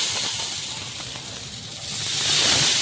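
Breakfast batter frying in a hot pan like a round flatbread, giving a steady, loud, close hiss of sizzling oil that swells slightly toward the end.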